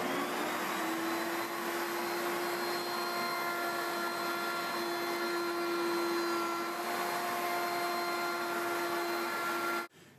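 A router with a quarter-inch round-over bit shaping the edge of a wooden coffee table gives a loud, steady high-pitched motor whine with a rushing cutting noise, running continuously until it stops abruptly near the end.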